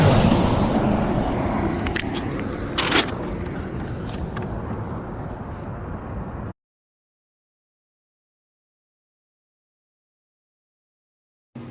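A city bus pulls up on a street with a loud, steady broadband engine rumble and a brief hiss near the middle. The noise eases slightly, then cuts off abruptly, leaving silence.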